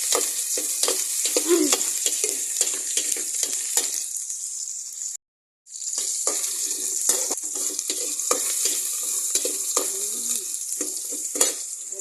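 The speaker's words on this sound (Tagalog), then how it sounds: "Lagay natin yung sibuyas. Tapos, lekot-lekot natin sa rin." Onion frying and being stirred in a pan, a continuous close sizzle broken by frequent clicks and scrapes of a spatula, with a brief gap of silence midway.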